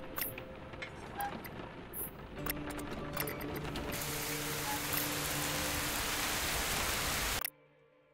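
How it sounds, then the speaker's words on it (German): Steady rain on the surface in the video game Sheltered 2, a continuous hiss with faint mechanical clicks and low tones beneath, building louder midway before cutting off abruptly near the end. "Regen an der Oberfläche, ja."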